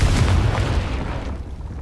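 A Confringo fire spell bursting in the video game Hogwarts Legacy, one loud, close, rumbling blast that fades over two seconds with nothing else over it.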